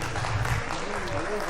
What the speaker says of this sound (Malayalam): ഒരു പ്രത്യേക കയ്യടി ആ വനിതയ്ക്ക് കൊടുക്കണം